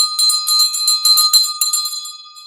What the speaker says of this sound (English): I'm going to ring the big bell.